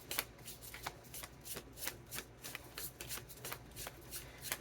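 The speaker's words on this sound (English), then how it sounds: "now I'm going to pull out cards from the Spacious Tarot" A Spacious Tarot deck being shuffled before cards are drawn, a run of soft, close riffling flicks and slides at a steady pace, quiet throughout, with no clear voice.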